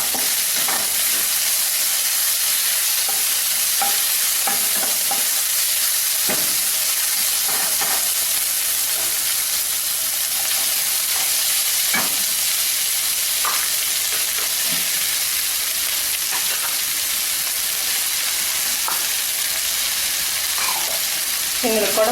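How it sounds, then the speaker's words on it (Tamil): Ginger, garlic and onion fry in a pan for capsicum rice, a loud constant hiss and sizzle with scattered soft stirring knocks throughout. "இஞ்சி பூண்டு, வெங்காயம் நல்லா ப்ரௌன் கலரில் வரட்டும்."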